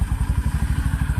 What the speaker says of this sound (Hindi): आइडियल में इंजन साउंड कैसी है हम एक बार